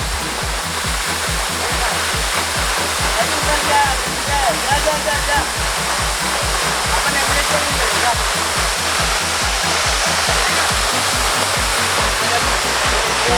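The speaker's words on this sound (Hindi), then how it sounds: "पहली बार वाटरफॉल के नीचे आया हूँ कुछ ज़्यादा बड़ा तो नहीं है लेकिन मस्त है" A small waterfall near the source of the Narmada river gives a loud, continuous rushing roar, heard from very close below the falling water.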